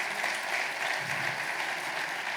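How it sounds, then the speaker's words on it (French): An audience at a New Year's civic ceremony in Cusset applauds steadily, a dense sustained wash of clapping across the whole moment with no break. "vous pouvez l'applaudir."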